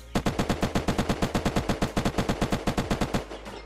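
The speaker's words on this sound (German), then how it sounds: "Und jetzt schieße ich einmal 25 Schuss" Twenty-five rapid, evenly spaced gunshots from a weapon in the video game Unturned ring out loud and close in one unbroken burst, then stop abruptly, with no talk.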